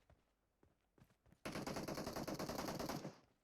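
Automatic gunfire in PUBG Mobile erupts loud and dense after a few quiet footstep-like taps, a sustained burst of rapid shots lasting about a second and a half before cutting off.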